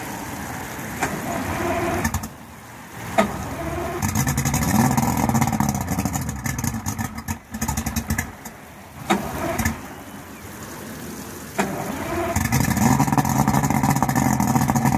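Outboard motor on a 2003 SailFish 234 boat starting from cold, catching and revving up and down several times, then settling into a steady loud idle close by.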